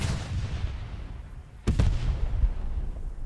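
A Panzer IV tank cannon fires a shell in the World War II game Post Scriptum, one loud booming shot over a constant low engine rumble, no talking.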